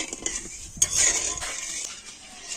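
Sugar syrup with crushed cardamom being stirred in a pan for gulab jamun, quiet scraping and metallic clinks of a spoon against the pan, close and soft, with a faint sizzle beneath.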